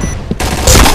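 A loud, close blast of video-game sniper rifle fire from a competitive match, a sudden heavy report that kicks in partway through and sustains densely to the end, with no talk over it.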